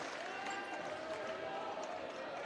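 Home student section crowd at a Penn versus Marian boys high school basketball game, a dense, steady roar of cheering voices filling the gym with no break, loud and continuous throughout.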